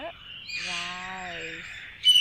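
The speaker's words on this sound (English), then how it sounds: "I will be better with the sound of the bird" Birds calling in a rice field: a single sustained, harmonic call rises and holds for over a second, fairly close and clear, followed by a brief brighter chirp at the end, with no talking.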